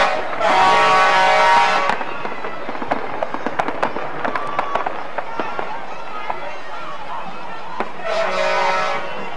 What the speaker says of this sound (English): As the fireworks go off in the distance